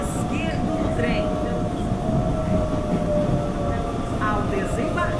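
A TUE Série 8500 commuter train rumbles steadily in the OpenBVE train simulator on a run between Mogi das Cruzes and Suzano, with a continuous low hum, faint high squeals and a constant drone.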